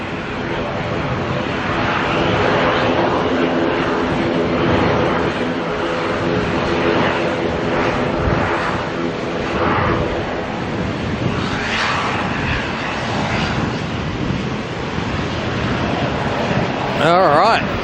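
Airbus A320 jet at Auckland Airport in wet weather, a loud sustained engine roar and whine with broad rushing noise, rising and falling slightly, with a voice talking over it.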